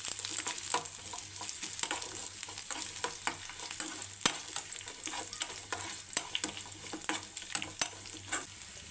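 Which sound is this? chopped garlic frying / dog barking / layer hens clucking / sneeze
chopped garlic frying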